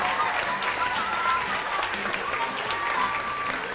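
A children's book awards ceremony audience applauds the judges with warm, sustained clapping from a large crowd, an even continuous wash across the whole stretch without talk.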